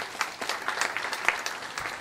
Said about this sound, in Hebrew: לקבל אותם גם כן במחיאות כפיים.